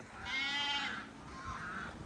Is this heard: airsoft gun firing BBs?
no